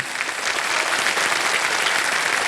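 Steady, dense applause from a studio audience at a televised quiz show, Kaun Banega Crorepati season 16, filling the room evenly and loudly throughout without a break.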